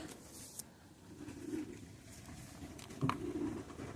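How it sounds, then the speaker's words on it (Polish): A pigeon held in the hands gives a few soft, low coos at close range, quiet against a light background rustle. "ale to jest gołąbek nie byle jaki"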